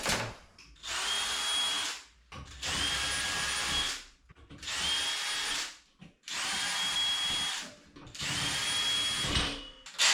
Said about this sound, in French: je dois percer dans les trous que j'ai fait dans le rail. Et le rail c'est des petits trous. Et je pré-perce.